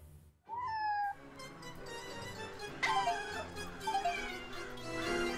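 A cartoonish cat meow from the Hidden Cats in Spooky Town puzzle game, a short rising-falling cry near the start followed by further softer mews over a light musical backdrop.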